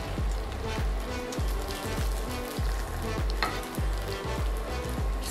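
An egg fries in a hot pan, seasoned with a little salt, giving a steady close sizzle with a regular rhythmic thumping underneath throughout.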